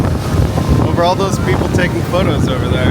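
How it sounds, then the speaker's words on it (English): Strong ocean-side wind gusts at Tokyo DisneySea, around 40 miles per hour, roar and buffet the microphone in a loud, constant rush while a person talks over it. "It's like 40-mile-per-hour wind gusts."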